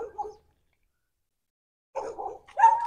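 A dog barks in short bursts near a house under construction: a quick yelp at the start, a long silence, then a cluster of barks and yips toward the end, fairly close and loud.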